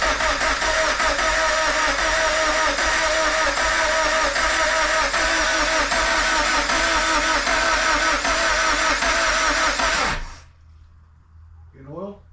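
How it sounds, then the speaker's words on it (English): A freshly rebuilt Scion FR-S engine cranks over on its first start attempt, a loud, steady churning that runs without a break for about ten seconds and then cuts off abruptly into near silence. "First crank."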